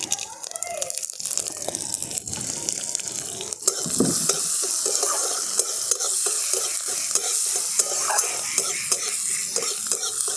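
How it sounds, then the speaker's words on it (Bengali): White sesame seeds, mustard seeds and green chillies are stirred in hot oil in a pan. A loud, busy sizzle runs throughout, with repeated scraping clicks from the spoon and a faint voice in the background. "একটু নাড়াচাড়া করে নিয়েছি"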